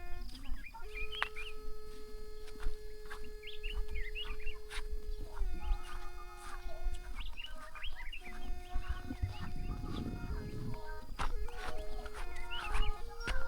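Chickens cluck and a rooster calls in a remote rural village, with scattered bird chirps mixed in and a low rumble underneath, the fowl sounding fairly close and repeated across the stretch.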